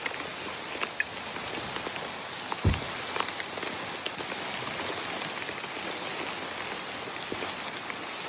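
Steady rain patters on a tent and its rain fly at a camping spot during a road trip, a dense, even hiss of drops close by with a few louder taps, heard without talk.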